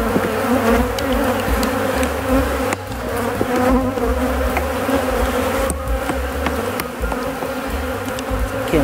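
A dense, continuous buzz of many honeybees swarming close by at a hive being split, steady and loud throughout with no talking.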